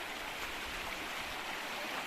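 Mountain stream water on Mt. Oriao near Uyong, Labrador, Pangasinan flows in a steady, hissing rush close by, even and unbroken, with no voices.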